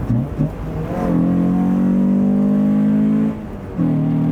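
A Mazda MX-5 Miata sports car with a manual gearbox revs up loudly through one gear, dips briefly during a shift, then pulls again close by.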